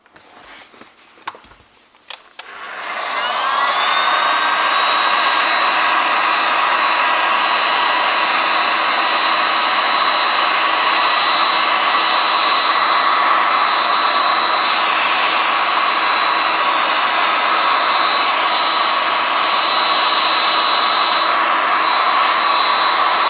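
A heat gun blows hot air to dry the mass air flow sensor filter from a 2004–2009 Toyota Prius. After a few handling clicks, it starts up and runs as a steady, loud, continuous whooshing drone with a thin whine.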